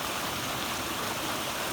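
A flooded creek on a farm runs high after a 2021 flood, a steady, dense rush of water heard close and continuously, with no other sounds.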